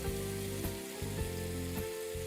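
Fish frying in a pan over lowered gas heat, one side cooking; a steady, dense sizzle with faint crackle and low hum throughout, close and continuous with no talking.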